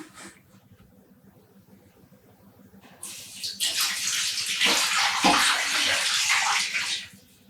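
Cold water, about 2 liters, pours steadily into a pan after a quiet start, a broad splashing rush that keeps going for several seconds and then stops.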